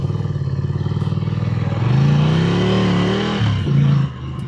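A 2019 Ducati Scrambler motorcycle on street tires is revved hard at full throttle, its close, loud engine rising in pitch and surging, then easing and briefly picking up again.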